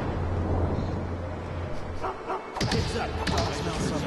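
A dog barks a few times in the stealth video game Mark of the Ninja, short sharp yelps arriving in the back half over a steady game ambience and music hum, fairly close and moderately loud.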